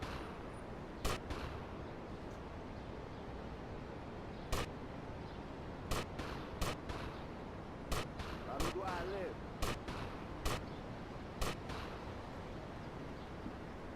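Gunfire in GTA: Vice City on PC, with sharp single gunshots cracking at irregular intervals, some paired closely, moderately loud over a quiet hissing background.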